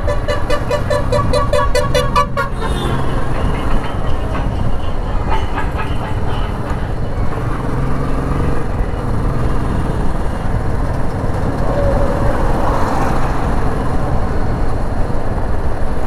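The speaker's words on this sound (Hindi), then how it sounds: "अभी थोड़ा बाइक को रफ ड्राइव कर रहा हूँ और थ्रॉटल दे रहा हूँ अच्छा खासा" A BS6 Royal Enfield Classic 350 motorcycle ridden hard with the throttle open at around 80 km/h, giving a steady low engine rumble mixed with constant wind and road noise and no talking.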